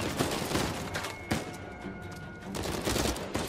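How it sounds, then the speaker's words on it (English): Rapid turret gunfire in Uncharted 4 rattles in sustained bursts, loud and close, with a short lull midway before the firing picks back up. "Oh man, we got a turret."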